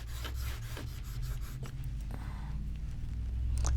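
A shear blade is sharpened on a 4000 grit whetstone, heard as quiet close rhythmic rubbing strokes, around a dozen back-and-forth passes, over low background hum.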